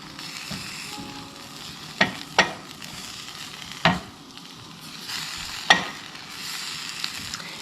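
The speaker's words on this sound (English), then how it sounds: "I've got it kind of on medium high, and we're just gonna stir it up." Rainbow trout frying in a pan on medium-high heat, a steady sizzle with several sharp scraping stirs spaced a second or two apart.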